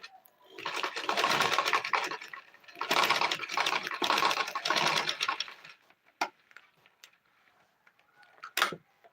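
A sewing machine runs bursts of top stitching along a kids' dress shoulder: two close, steady runs separated by a brief stop, then quiet with scattered clicks and a final sharp tap.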